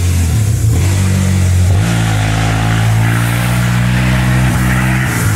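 A van engine runs and pulls the vehicle along, steady and loud from inside the cab, with a low drone that rises as the van accelerates and shifts around the two-second mark, the heater fan blowing on full.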